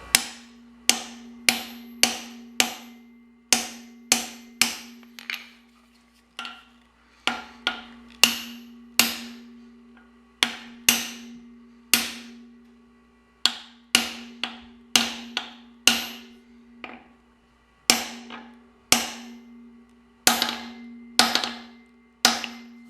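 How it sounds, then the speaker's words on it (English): Repeated sharp metallic taps from a brass hammer striking a PCV valve fitting on a Subaru 2.5L SOHC engine, coming in quick bursts with short pauses, each hit ringing briefly; close and clear. "I'm using a brass hammer just so it doesn't mar the fitting, just in case I slip a little bit."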